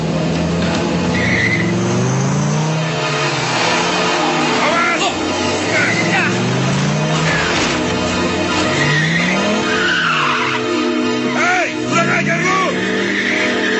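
A car in a drama scene drives recklessly, tires squealing and skidding repeatedly over a continuous engine roar, with swerving pitch sweeps throughout and voices mixed in.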